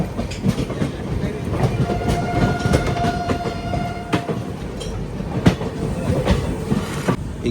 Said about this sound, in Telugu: తిరుపతి, చెన్నై, మైసూర్ ట్రైన్ ఇది